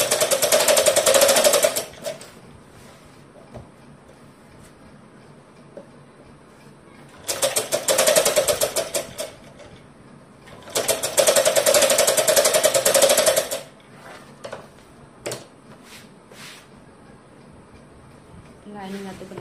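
Sewing machine stitching the lining of a long frock made from an old saree, three loud sustained runs of rapid mechanical whirring separated by quieter pauses with light handling sounds.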